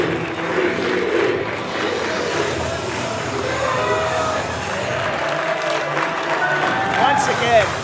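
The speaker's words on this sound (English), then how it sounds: "and listen to this crowd." A wrestling crowd at a West Coast Pro event in San Francisco cheers and shouts in a loud, sustained roar with scattered clapping, while commentary voices talk over it.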